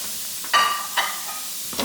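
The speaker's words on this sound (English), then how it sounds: "I'm just gonna put all the veggies in there right now. Oh yeah, hear them sizzle." Vegetables for vegan taquitos sizzle in a hot, oil-free pan, with soft crackling and a few brief louder hisses as they are stirred, close by and with no talking.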